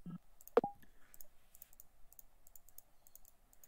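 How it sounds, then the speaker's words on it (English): A camera shutter clicks repeatedly while photographing at night: one sharp, close snap near the start, followed by a rapid series of faint, evenly spaced clicks, with no talk. "If I keep on clicking,"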